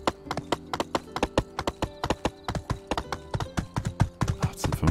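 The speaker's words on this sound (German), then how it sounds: "Sollten vielleicht das Pferd nehmen und nicht vor dem Pferd hier laufen." Steady run of hoofbeats from a horse in the video game My Time at Sandrock, a quick even clip-clop rhythm that stays close and fairly loud throughout with no talking.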